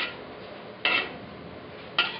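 A spoon scrapes and knocks in a pan while pasta with capsicum is stirred, two sharp metallic clinks spaced about a second apart over a faint background hiss, close by with no talk.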